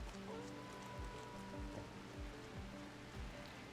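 Rain falls in the Rim of Time video game as a continuous soft hiss, with low rhythmic thumps and tonal bands from other game sounds layered underneath.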